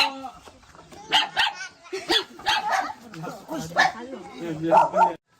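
Dog barking nearby at a house while people ask for help, with several sharp barks and yips scattered among steady conversation.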